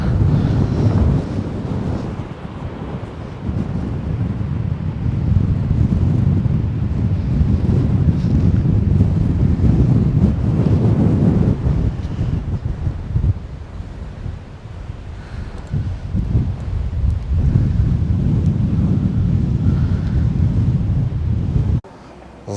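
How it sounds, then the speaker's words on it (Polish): Strong wind buffets the microphone on sand dunes on Gran Canaria, a loud, continuous rumbling roar that surges and eases in gusts for the whole stretch with no voices. "Strasznie wieje, mam nadzieję, że coś będzie słychać"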